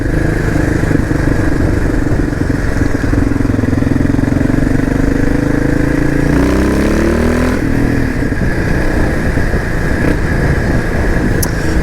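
Steady Suzuki DR 650 SE motorcycle engine running at a low idle, with a wavering pitch midway and wind rumble throughout; no one speaks.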